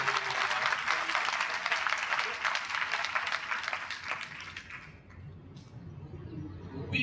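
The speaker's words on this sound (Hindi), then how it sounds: "Clap hands and praise the Lord." Church congregation clapping hands in praise, dense rhythmic applause from many people that fades out, leaving a quiet room with a faint voice.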